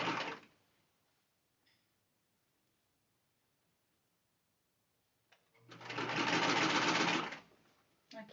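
Sewing machine stitching a car trash bin with pockets: a brief burst at the start, then a long steady loud run of rapid mechanical stitching, with quiet handling between.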